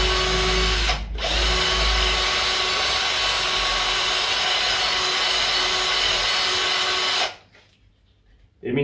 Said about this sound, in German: Ich habe gedacht, ich nehme mal meine Bohrmaschine zum Starten und mache da mal feinsäuberlich ein